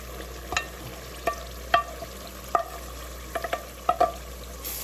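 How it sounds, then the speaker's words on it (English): Blended seasoning going into cooked tomato paste for Nigerian jollof rice, a low simmer under a handful of sharp spoon scrapes and knocks against the pot, spaced irregularly and close by, no voices. "Now I'm gonna go in with my blended seasoning."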